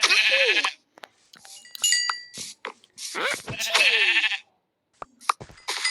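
Sheep in the video game Minecraft bleat loudly as a wolf attacks them, with several close, wavering cries broken by short gaps and small game sound effects, and no voices.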